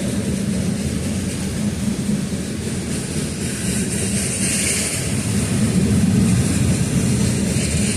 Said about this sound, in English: Oh, trash train's going.